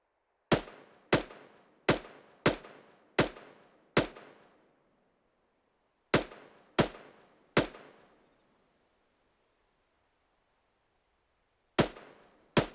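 Single shots from a standard M4 rifle in Arma 3, fired at long range without a bipod: a string of six sharp, evenly spaced cracks, a pause, three more, then two after a longer gap, each with a short echoing tail.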